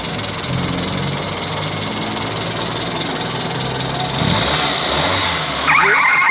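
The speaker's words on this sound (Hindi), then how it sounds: "ये देखें, अभी ये गाड़ी स्टार्ट है। ये देखें, ये आपको आवाज़ आ रही होगी इसकी" A Suzuki Alto VXR engine runs steadily after being started directly with the ignition switch bypassed, idling in a loud, even rumble that rises briefly near the end.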